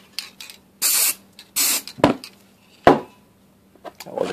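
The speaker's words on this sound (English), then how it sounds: "I got to spray the side over here where the volume buttons are." Rust-Oleum NeverWet coating is sprayed from an aerosol can onto a smartphone in two main hissing bursts plus a few shorter puffs, close and loud, with a couple of sharp knocks as the phone is handled.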